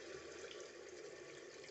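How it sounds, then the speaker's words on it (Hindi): A small amount of water poured into a pot of potato curry, a steady, soft liquid rush running faintly and evenly throughout. "ज़्यादा नहीं, बहुत कम पानी डालेंगे"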